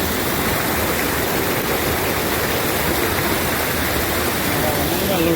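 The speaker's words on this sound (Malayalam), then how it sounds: "വെള്ളം ഒഴുകി വരുന്നത്" Water pouring down a small waterfall at Thommankuthu in Idukki, a steady, loud broadband rush that fills the whole stretch without a break.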